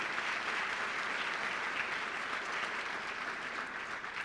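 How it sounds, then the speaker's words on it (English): Steady applause from a large audience at a city's State of the City address as the senior city staff stand in the front row, a continuous even wash of clapping heard at a distance throughout. "Give them a big round of applause."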